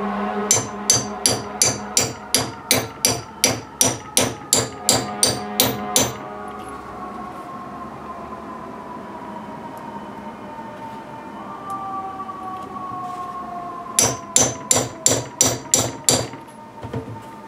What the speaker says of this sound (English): and then start hammering.